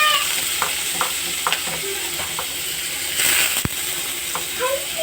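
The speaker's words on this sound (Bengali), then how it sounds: "ভালোভাবে নেড়ে এটা লাল লাল করে একটু ভাজতে হবে" Chopped onions and slit green chillies fry in hot oil, sizzling steadily while a spoon scrapes and stirs them in quick, irregular strokes, with a sharp clank partway through.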